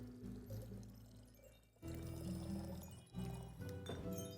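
Liquid pours into a glass in a tavern video game, a close trickling splash with faint clinks, broken by two brief pauses, over soft background music.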